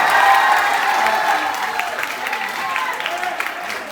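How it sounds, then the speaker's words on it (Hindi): A large audience at a Hindi comic poetry gathering claps loudly, a dense, steady roar of applause that starts strong and gradually thins toward the end. "एक बार दोनों हाथ खोल के जोरदार ताली बजाइए"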